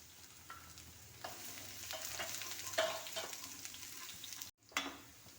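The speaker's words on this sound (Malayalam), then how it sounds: "ഇഞ്ചി നല്ലതുപോലെ ഒന്ന് മൂത്ത് വരട്ടെ ഇതിലേക്ക് ഇനി വെളുത്തൊട്ടി വെളുത്തുള്ളി ഇട്ട് കൊടുക്കാം" Garlic tossed into ginger frying in oil, a steady close sizzle with scraping stir strokes that swell midway, a short break, then a renewed burst of frying.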